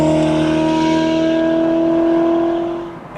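A hypercar with no muffler sends out a loud, smooth exhaust note of strong sustained tones that hold steady, then drop away in the last moment.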